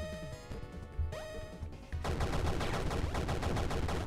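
Disc gun firing in the retro arcade game Super Crate Box: sharp synthetic blasts and a smashing impact over bright electronic tones, giving way to a dense, continuous clatter of chiptune effects.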